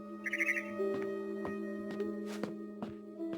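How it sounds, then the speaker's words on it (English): A barn swallow in What Remains of Edith Finch gives a quick burst of high chirps, followed by several soft, clicking ticks over a low steady ambient hum. "Then I heard chirping outside my window."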